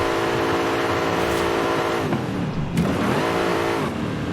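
A car engine revving steadily while drifting in the video game Forza Horizon 5, played with a wheel, a loud continuous rising and falling drone with a brief pitch shift partway through, with no talk.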